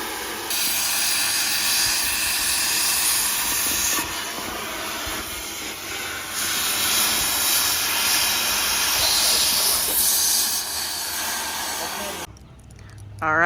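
Steam hisses steadily from a boiling old tractor engine, a loud, continuous broadband rush that shifts in intensity and drops away near the end, with a faint voice underneath.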